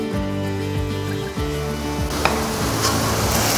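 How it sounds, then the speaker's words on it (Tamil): Onions sautéing in a pan over medium heat for a quail egg masala, a steady close sizzle with faint stirring scrapes throughout, a few brief clinks toward the end, no talking. "மீடியம் ஃபயர்லேயே வச்சு வெங்காயத்தை நல்லா வதக்கிட்டே இருங்க."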